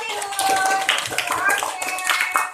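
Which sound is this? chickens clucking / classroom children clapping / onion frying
classroom children clapping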